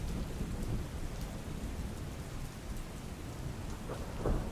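Heavy monsoon rain pours down over flooded streets in Ahmedabad's Vejalpur area, a constant broadband roar with a few faint distant rumbles and no voices.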